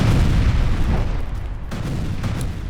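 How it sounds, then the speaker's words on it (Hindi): Heavy, rumbling boom of an explosion in war footage from Russia's Rostov, a loud low blast that rolls on and slowly fades, with no voices. "रूस के रोस्तोव में भीषण धमाका हुआ।"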